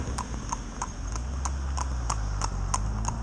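A chestnut mare's hooves clip-clop in an even, steady rhythm on a hard road, about three beats a second, over a low engine rumble.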